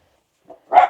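A single dog bark close by, a short faint yelp followed by one louder, fuller bark, heard outdoors near a parked works van in an urban setting early in the morning.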